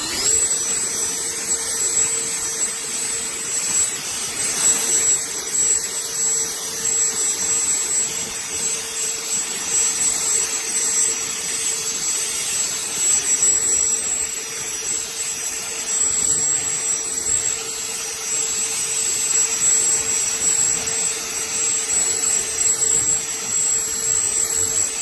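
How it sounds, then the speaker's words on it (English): A WORX Nitro cordless battery-powered leaf blower runs steadily up close, a continuous loud airy roar with a constant high electric whine that holds level throughout. "I think that's not too bad for a very lightweight battery-powered blower"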